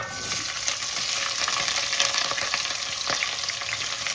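Chopped onions hit hot oil with fennel seeds for a Jaffna-style goat curry and sizzle loudly and steadily. Scattered crackles and the scrape of a spoon stirring the pan come through close up, with no talking.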